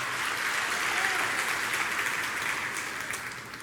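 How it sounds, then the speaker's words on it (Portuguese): A church congregation applauds during a sermon, a dense, steady wash of many hands clapping at moderate level with no pauses across the whole stretch, heard alone. "Dá uma salva de palmas aí, dá um glória aí."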